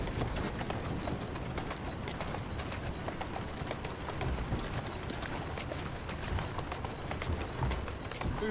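A horse gallops through the streets of Victorian London in Assassin's Creed Syndicate, giving a dense, continuous run of hoofbeats with faint background game ambience and no talking.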